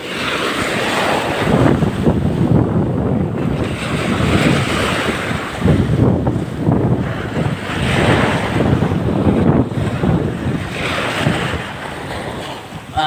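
Ocean waves roll and surge in a continuous roar, with heavy wind buffeting the microphone throughout and no voices.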